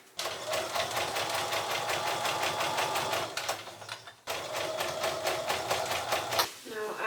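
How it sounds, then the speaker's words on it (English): A sewing machine runs a basting stitch around a shirt sleeve cap on a garment made from an old tablecloth. The motor whirs in a steady, fast, close hum, pauses briefly, then starts again for a second long run. "I'll do a basting stitch all around the sleeve cap just to make sure that these pleats are in there"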